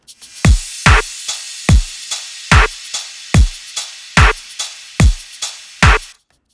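Punchy electronic drums thump in a steady pattern, each deep kick hit layered with bright crashing cymbal wash, loud and alone.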